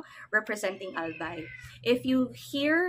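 A hoarse, raspy cat meow sounds among a woman's speech, with several harmonic meow-like calls mixed into the talking; the meowing stands out near the end of the clip.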